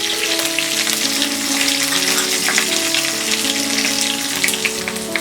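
Green chilies, curry leaves and ginger paste sizzling in hot oil for bread upma, a steady close crackling hiss that carries on evenly throughout with no talking.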